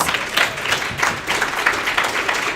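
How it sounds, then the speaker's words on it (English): An audience applauds staff at a racial equity event, a steady dense clapping that holds evenly throughout without talk. "let's give them a round of applause"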